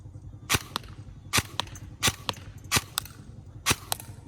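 Video game gunfire aimed at a control box sensor. Sharp, close cracks come in quick pairs, about a dozen shots over a few seconds with short gaps between bursts, and no one speaks.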